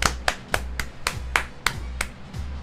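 A few people clap for Mexico's national football team: sharp, distinct hand claps in a steady rhythm, about eight in under three seconds. The claps are close and fairly loud, with low room noise between them.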